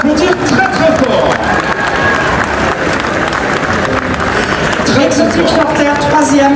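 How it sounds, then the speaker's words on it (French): An audience at a cat-judging final at an agricultural show applauds loudly and continuously, with some cheering and a voice speaking over the clapping. "Vous pouvez l'applaudir très très fort."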